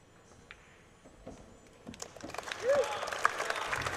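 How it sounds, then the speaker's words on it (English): Crowd applause rises in the stands at a professional pool final, swelling from quiet murmur into steady clapping that builds toward the end, moderately distant and mixed with arena ambience. "we're moving uptown as you hear the applause from the crowd"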